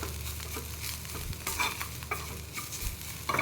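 Aloo paratha potato filling seasoned with chili, coriander-cumin powder and turmeric is stirred in a pan, with irregular spoon scrapes and soft knocks over a faint sizzle, close up and quiet, with no voices.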